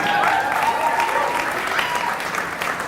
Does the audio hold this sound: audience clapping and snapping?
yes